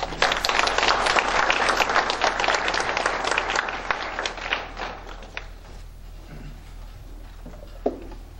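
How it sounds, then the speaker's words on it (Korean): Audience applause welcoming Cho Gap-je, head speaker at a Gyeongin Forum lecture, a dense burst of clapping from a seated crowd that is loud for about five seconds, then fades out with a few scattered claps. "큰 박수 부탁드립니다"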